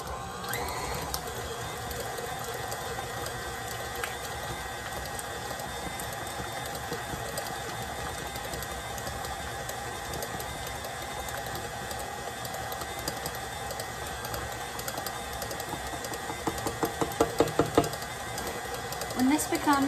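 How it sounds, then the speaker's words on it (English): A stand mixer fitted with a paddle creams butter and sugar on medium speed, producing a quiet, steady mechanical whir and hum, with a few faint rattling clicks near the end. "I've set up my stand mixer with a paddle attachment and now I'm going to cream together the butter and"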